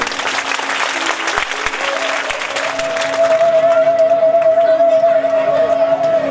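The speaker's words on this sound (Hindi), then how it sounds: "इन दोनों के लिए ताली बजा दें आप सभी लोग" Loud crowd clapping at a Bhagwat katha religious gathering, dense and continuous, with a steady electronic tone from the sound system humming underneath and a few sharp thumps early on.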